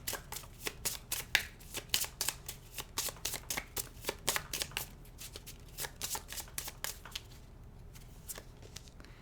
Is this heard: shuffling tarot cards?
yes